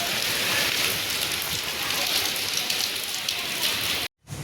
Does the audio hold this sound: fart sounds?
no